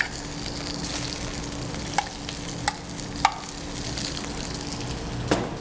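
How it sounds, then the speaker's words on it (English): Shrimp sizzle in a hot restaurant sauté pan, a soft, steady frying hiss broken by a few sharp clicks and taps of the pan, with no talking. "I'm going to go ahead and just drop in 6 shrimp."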